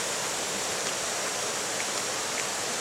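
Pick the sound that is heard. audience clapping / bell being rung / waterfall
waterfall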